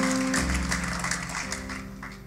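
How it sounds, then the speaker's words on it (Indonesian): A church congregation applauding during a sermon, a dense wash of clapping that swells and then slowly thins out, with a sustained organ-like tone underneath. "Oke kita beri tepuk tangan saudara."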